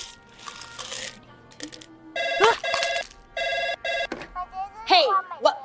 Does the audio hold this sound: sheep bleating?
no